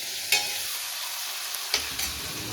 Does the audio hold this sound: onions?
yes